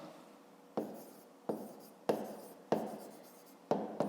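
A pen writes on notebook paper while a grade 5 math exercise is solved, giving about five crisp, close scratching strokes, each starting sharply and trailing off, with no voices.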